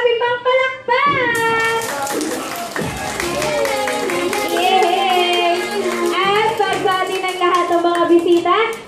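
Guests at a child's fourth birthday party clap and cheer together, a dense crowd of applause mixed with children's voices and shouting, loud and continuous with tonal voice harmonics over it.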